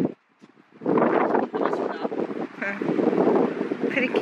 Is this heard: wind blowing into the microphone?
yes